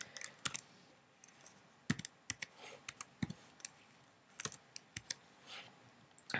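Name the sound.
typing an IP address on a computer keyboard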